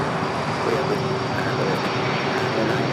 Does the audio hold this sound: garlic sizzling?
no